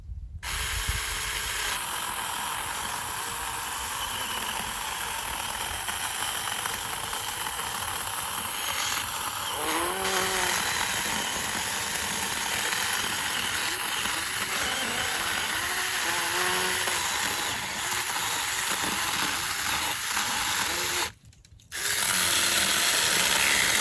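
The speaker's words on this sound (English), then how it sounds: "you just let the little saw do its job, and boy, it just cuts right through." A Saker mini electric chainsaw cuts through walnut, giving a steady, moderately quiet buzzing whine with a rough grinding texture that carries on through most of the stretch, broken by a short gap near the end.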